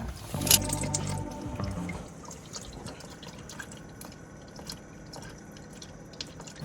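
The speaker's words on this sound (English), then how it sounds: "we just finished draining all of the coolant" Coolant drains and drips from an Audi S4 under repair, a burst of liquid splashing near the start that settles into a steady close trickle with scattered drips.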